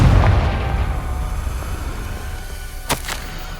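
Confringo fire spell blast in Hogwarts Legacy, a booming rumble that decays over a few seconds, followed by a single sharp crack near the end, with no speech.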